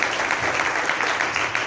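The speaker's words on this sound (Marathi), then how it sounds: "आणि म्हणून आपण जोरात टाळ्या वाजवून" Loud, steady applause from a church congregation clapping together, a dense continuous patter with no breaks.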